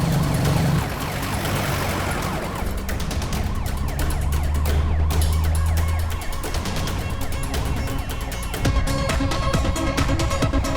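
An ambulance siren wails loudly and continuously with a rising and falling tone, heard close over a busy dramatic background of traffic and music-like noise, with no talk.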